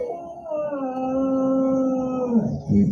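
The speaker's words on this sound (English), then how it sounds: "My pup is barking in their sleep." A sleeping pup lets out a long, whimpering howl, a sustained wavering tone held for a couple of seconds close by before trailing off into a soft yip.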